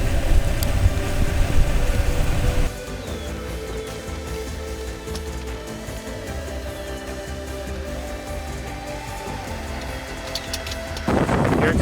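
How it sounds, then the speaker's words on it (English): Heavy rain from a severe thunderstorm hisses steadily while low thunder rumbles beneath it. The downpour is loud at the start, eases into a constant roar, then swells again near the end. "All right, we have heavy rain coming."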